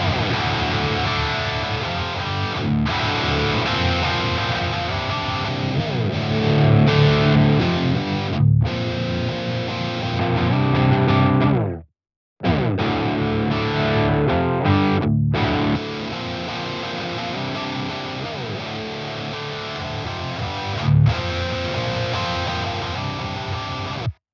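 A heavily distorted electric guitar through the default preset of the Aurora DSP Rhino amp simulator plays chugging riffs and sustained chords, thick and saturated, with a brief silent break midway.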